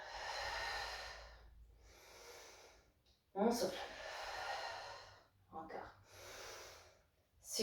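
A woman exhales audibly during a yoga twisting exercise, several breathy out-breaths in a row, fairly close and moderately loud, with a stronger sharp exhale midway.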